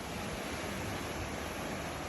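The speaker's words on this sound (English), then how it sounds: "you can sit in your plunge pool and listen to the ocean." Ocean surf heard from a lagoon-view villa with a plunge pool in Fiji, a soft, even, continuous wash of noise with no distinct breaking waves and no voices.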